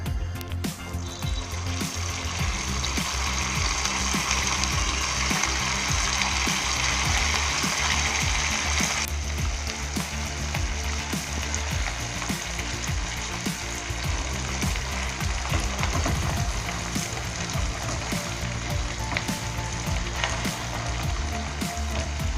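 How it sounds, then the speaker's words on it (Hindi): Suji gulab jamun balls fry in hot oil over a medium gas flame, giving a steady, close, continuous sizzle and bubbling that holds for the whole stretch with no voices. "जब तेल हमारा गर्म हो जाए तो बॉल डाल करके गैस हम मीडियम कर देंगे।"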